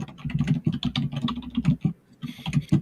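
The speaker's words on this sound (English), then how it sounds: "I know that's Doug typing" Rapid typing on a computer keyboard, close and clear, irregular bursts of clicking keystrokes with a brief pause before resuming.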